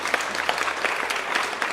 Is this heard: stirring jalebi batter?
no